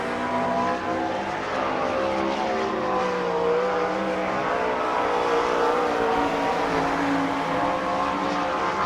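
A sprint car on an All Star Circuit of Champions qualifying lap at Sarver, Pennsylvania, its high-pitched engine screaming steadily at a distance around the dirt oval.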